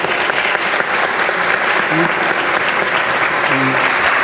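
An audience at a World Kidney Day medical talk in San Javier, La Paz, applauds loudly and steadily from start to finish.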